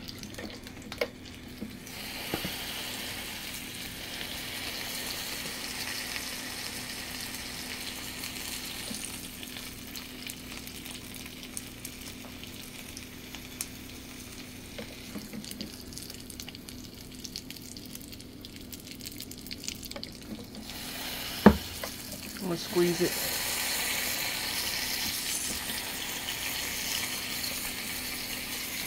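Hotdogs and bratwurst sizzle steadily in a churro maker for a long stretch, a constant crackling fry with occasional clicks and bumps of handling, a brief spoken remark near the start.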